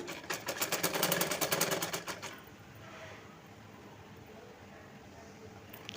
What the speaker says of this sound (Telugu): ఇప్పుడు నేను ప్రజెంట్ లాంగ్ ఫ్రాక్కు అయితే స్టిచ్ చేస్తున్నా అండి